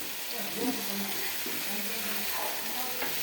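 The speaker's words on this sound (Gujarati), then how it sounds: "ડુંગળી લીલા મરચાં લસણ અને મીઠો લીમડો નાખી દીધો તો સાંતળી ગયું" Onion, green chilies, garlic and curry leaves sautéing in hot oil for a Gujarati parwal sabzi, a steady broadband sizzle with faint stirring scrapes, close and continuous.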